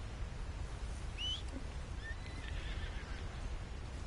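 In the video game Red Dead Redemption 2, a horse whinnies briefly at moderate distance, a thin high neigh rising and falling over a steady low background hum.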